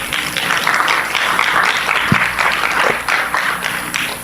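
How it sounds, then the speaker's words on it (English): An audience at a College Credit Plus event applauds guest speakers with steady, dense clapping filling the room, heard at moderate distance with a couple of sharper claps standing out. "Give them a round of applause."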